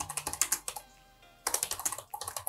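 Keys clacking on a computer keyboard in quick, close bursts of typing, with a brief pause in the middle before another flurry of keystrokes resumes.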